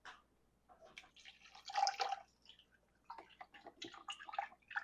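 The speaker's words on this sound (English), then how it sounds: "I'm just going to pour this over around the roast." Reduced-sodium chicken broth poured around a roast in a pan, giving irregular close splashing and dripping bursts with short pauses between pours, moderately quiet, with no talking.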